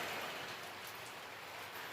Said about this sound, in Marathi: पाऊस रात्रभर बी चालू होता आता बी दिवसभर चालू आहे